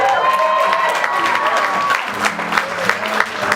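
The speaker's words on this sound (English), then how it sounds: "with a big round of applause, let them cut the cake." Wedding guests applaud as the couple cuts the cake, a steady wash of clapping and crowd noise with a thin sustained tone running through the first half.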